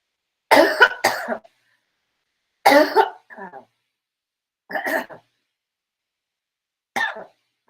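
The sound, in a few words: coughing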